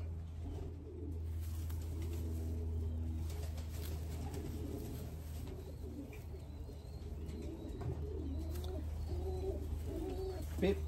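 Racing pigeons arriving at a loft during an Orange County-area Capistrano Classic race, with soft repeated cooing and occasional wing flutters over a steady low hum, fairly near and continuous.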